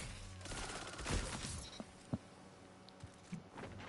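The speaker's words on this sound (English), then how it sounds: "That gun is so annoying." Gunfire from a gun in the video game Destiny 2, heard as faint, rapid bursts and scattered sharp shots in a quiet, low-level game mix, with one or two slightly louder cracks.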